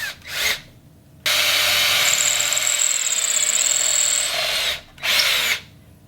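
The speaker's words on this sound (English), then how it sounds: "The last little maneuver we're going to do is drill through here to get a ground wire to the bridge." A power drill whirs briefly, then bores steadily through a wooden guitar body for a ground wire, its bit grinding in one long pass before stopping, followed by a short final burst.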